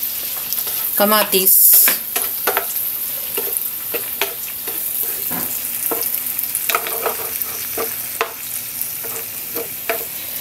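Chopped tomatoes sizzle and fry in hot oil for a home-cooked egg dish, with a steady crackle broken by occasional stirring scrapes and one louder burst near the start, close by and without talk.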